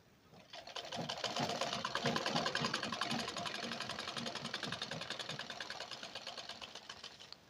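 A sewing machine runs a steady, rapid stitch around a blouse sleeve with a half-inch seam allowance, a close, even mechanical whirr that holds for several seconds before easing off.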